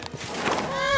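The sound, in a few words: horse neighing in video game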